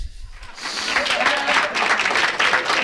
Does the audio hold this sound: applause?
yes